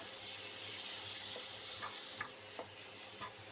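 Fried egg bhujia tumbles into masala that has released its oil in a pan, bringing a quiet, steady sizzling hiss broken by a few soft scraping clicks of a spatula, with no voices.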